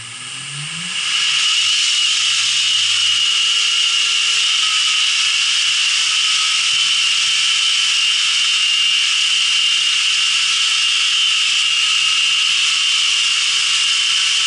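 A 2x72 belt grinder running at about quarter speed grinds the bevel of a recurve knife, a steady continuous abrasive hiss with a bright whine that holds loud and unbroken after a brief start.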